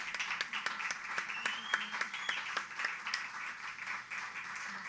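An audience applauds a guest at a live evening talk event, scattered clapping with distinct sharp claps spread across the room, steady and moderately loud throughout.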